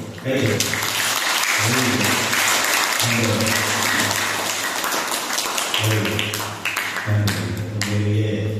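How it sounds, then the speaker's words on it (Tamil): Applause fills a church gathering during a Lenten reflection, a steady broadband wash of many clapping hands running throughout, with musical or sustained tonal sounds surfacing beneath it at intervals. "எல்லாரும் கைத்தட்டி நம்ம ஒவ்வொருத்தரும் நன்றி செலுத்துவோம்"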